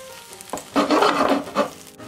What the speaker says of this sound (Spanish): Con un cucharón vamos a remover un poco los bordes